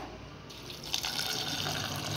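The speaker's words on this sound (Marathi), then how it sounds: "1 तांब्या पाणी ओतायचे" Water pours steadily into a pot of soaked rice, a broad rushing splash that swells after a brief quieter start and continues without voices.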